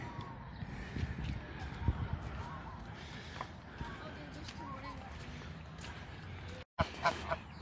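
Ducks, chickens and geese gathering to be fed bread outdoors, with honking and quacking calls scattered over a busy background of movement, and voices talking underneath.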